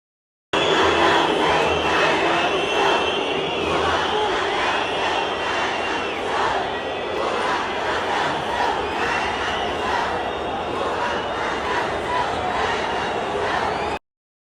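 A large crowd roaring and chanting in unison at a public event where Lula appears, a dense continuous wall of voices with a rhythmic rise and fall throughout.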